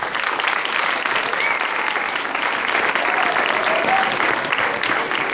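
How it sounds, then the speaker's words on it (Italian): Steady, dense clapping from an audience at a children's dance and theatre show, loud and continuous throughout without a pause. "Quindi un grandissimo applauso va anche a loro."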